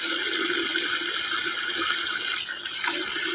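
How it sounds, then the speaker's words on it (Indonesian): Water running steadily from a tap into a container of soaking jumbo grape cuttings, a continuous close splashing pour that slightly changes pitch near the end. "tambahkan air lagi sampai terendam"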